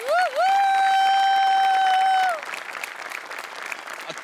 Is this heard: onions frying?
no